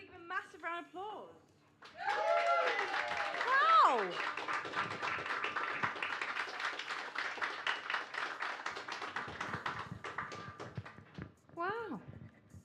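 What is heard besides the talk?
audience applause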